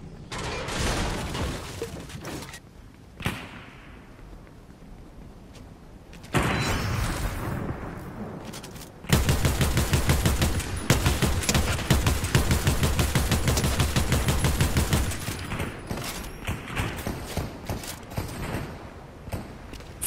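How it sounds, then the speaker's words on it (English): Rapid Gatling gun fire in Fortnite, a dense mechanical rattle of rounds that starts up and runs steadily for several seconds amid other game action, fairly loud and close. "Finally, a Gatling gun"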